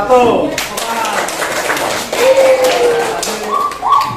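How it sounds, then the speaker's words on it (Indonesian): Schoolchildren in a classroom clapping for a group, sharp close hand claps in bursts, mixed with a teacher's voice and children's voices speaking over them. "Tepuk tangan untuk kelompok"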